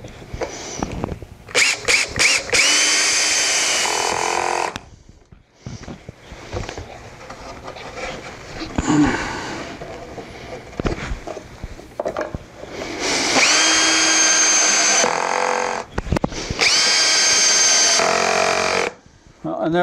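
Power drill driving number 6 three-quarter-inch wood screws into plywood clips, several loud whirring bursts of a few seconds each with pauses between, and a person talking in the gaps.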